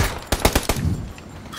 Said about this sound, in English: Somebody's shooting from behind.